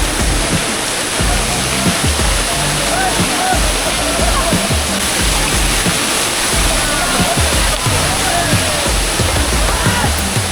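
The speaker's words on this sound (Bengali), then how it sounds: "এই হলো বামনি ফলস, অপূর্ব লাগছে দেখতে।" Bamni Falls in the Ajodhya Hills of Purulia, water pouring down rock in a steady, loud, broadband roar, near and continuous throughout without any voices.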